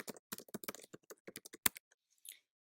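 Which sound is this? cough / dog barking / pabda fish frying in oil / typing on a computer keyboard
typing on a computer keyboard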